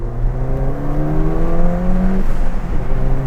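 A Ford Fiesta ST fitted with an induction kit revs hard up close, its engine note climbing steadily in pitch before dropping away, then settling back toward idle; loud and clear with no voices over it.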